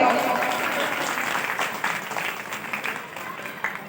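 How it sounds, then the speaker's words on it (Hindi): An audience claps together at a devotional kirtan gathering, a dense burst of applause that gradually thins out over a few seconds. "तो बजाओ तालियां।"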